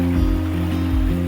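A truck crossing the water at Bertie Creek on Cape York's Old Telegraph Track, with a steady low engine drone and rumbling water churn, continuous and close, with no talk.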